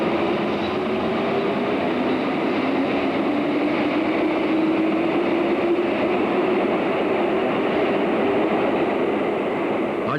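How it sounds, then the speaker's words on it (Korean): A train rumbles steadily on a Seoul Line 1 subway platform at night, a loud, continuous roar and hiss of wheels on rails with a faint rising whine running through it. "6월 11일 밤 9시 1호선 지하철역."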